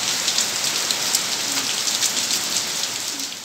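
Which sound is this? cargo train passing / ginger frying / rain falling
rain falling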